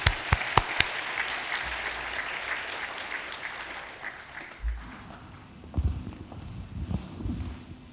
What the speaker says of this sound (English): Please give big applause.